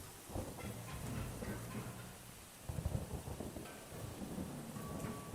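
Thunder rumbles low and heavy over steady rain after a lightning strike, with a sharp crack partway through and a continuous wash of rainfall, no voices.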